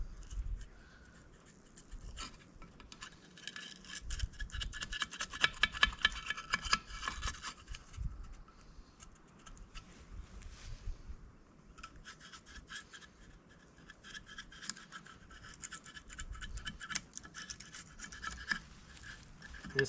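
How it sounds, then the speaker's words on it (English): Steel chisel scraping brittle deposits off the screen of a Ford power reverse transmission, close and rasping in uneven bursts, busiest in the middle of the stretch and again toward the end, with no talking. "I'm going to grab a chisel here and see if I can get this"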